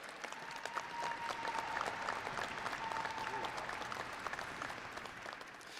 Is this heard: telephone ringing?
no